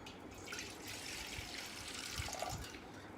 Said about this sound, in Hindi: इस तरह का बर्तन लेना है आपने और इसमें थोड़ा सा आपको पानी डालना है।